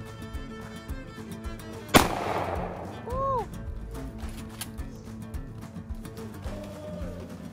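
A single sharp, loud pistol shot cracks outdoors near a fire pit, ringing briefly before fading, with people talking before and after it.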